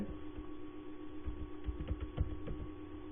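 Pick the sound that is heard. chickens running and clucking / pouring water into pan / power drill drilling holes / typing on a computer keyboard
typing on a computer keyboard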